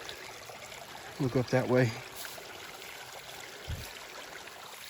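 A mountain creek in Pendleton County, West Virginia, trickling and flowing steadily in the background while someone speaks briefly over it.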